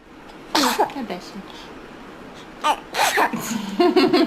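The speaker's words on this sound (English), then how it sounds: "Did you sneeze?" A baby's small sneezes burst out a few times amid adults talking close by, with soft exclamations and chatter filling the gaps between them.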